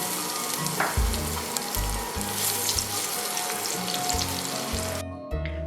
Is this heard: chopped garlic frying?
yes